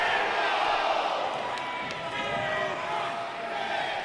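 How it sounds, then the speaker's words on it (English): A wrestling crowd at a live independent show cheers and roars loudly in a dense, continuous wash of noise, with an announcer's voice talking over it. "I've never heard a crowd going this crazy"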